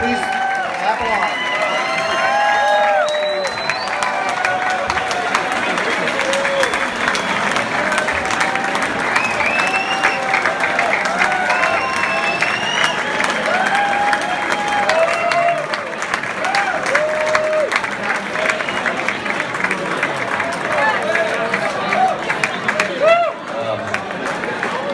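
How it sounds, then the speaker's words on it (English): Crowd applause and cheering fill an awards-ceremony hall during a lifetime achievement presentation, with steady dense clapping and whoops sustained throughout, loud and continuous with a hubbub of voices mixed in. "Please stand, please clap along."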